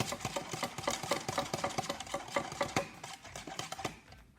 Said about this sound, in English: And give those a good stir.